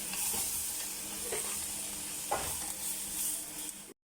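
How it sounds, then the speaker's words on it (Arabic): Spices and dried Basra lemon are stirred into a hot pot of onions for an Iraqi red tashreeb with meat, giving a steady close sizzle and hiss with a few scraping stirs before it stops. "وأضيف النومي بصرة نخلطه هالشكل"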